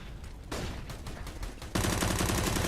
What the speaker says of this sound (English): Gunfire exchange at the top of Banana.